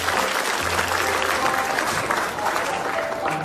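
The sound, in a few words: audience applause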